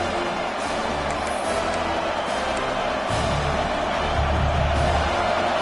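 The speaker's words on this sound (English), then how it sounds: "Decibels rising as the crowd gets behind this defense on 3rd down." A stadium crowd in College Football 26 keeps up a dense, steady roar of cheering that swells slightly louder partway through, like a distant wall of fans backing the defense.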